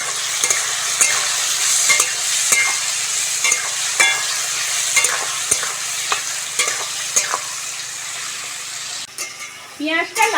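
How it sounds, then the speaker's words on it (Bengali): Chopped onions frying in oil with bay leaf and salt in a pan for a chicken scrap curry, a steady close sizzle with frequent stirring scrapes and clinks throughout, no voices. "পেঁয়াজটা লাল লাল করে ভেজে নেব।"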